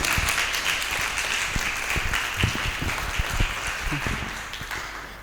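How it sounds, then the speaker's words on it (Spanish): Audience applause at a Bible study lecture, a fairly soft, steady wash of clapping with a few louder individual claps, sustained for several seconds in a hall. "Fuerte ese aplauso."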